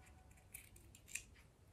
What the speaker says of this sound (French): vous coupez en biais